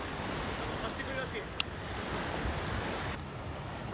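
Ocean waves wash steadily at Nusa Penida in Bali, a constant broad rush of surf with wind buffeting the microphone.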